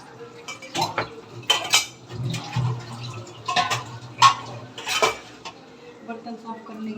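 Dishes and cutlery clatter and clink repeatedly in irregular bursts as utensils are washed after dinner, with running water trickling close by.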